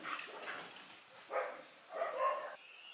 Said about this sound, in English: What's wrong with these dogs, man? Come on. Who is disturbing these dogs?